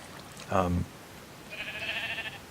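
A sheep bleats twice in a game, a short low harmonic bleat first, then a higher, thinner, wavering one about a second later, with soft ambient noise around them.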